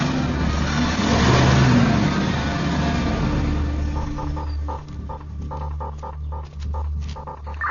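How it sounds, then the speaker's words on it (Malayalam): A car engine revs loudly while the accelerator is pressed during a driving licence test, a strong rising roar that settles into a throbbing idle, close and steady. "ഈ വണ്ടിക്ക് ശബ്ദം കൂടുതലാണ്"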